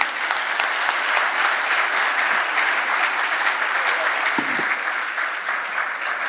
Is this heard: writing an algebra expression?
no